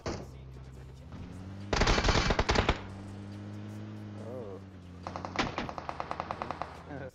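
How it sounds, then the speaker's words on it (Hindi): Gunfire from several players in PUBG Mobile comes as bursts of automatic fire: one dense, loud volley, then a quicker string of sharp shots, over steady game ambience. "चार पांच बंदे गोलियां पेल रहे हैं"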